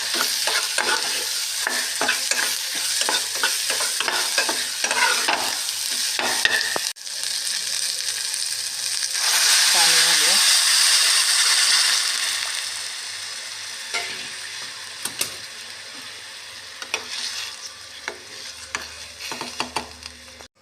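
Green peas fry in a pan for a pea amti while being stirred constantly. Busy scraping stirs come first, then a loud burst of close sizzling, then sparse clinks and quieter frying.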